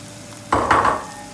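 Sugar poured and stirred into drained rice in a pot for sweet rice, a short close scraping, rustling burst lasting under a second with no talk.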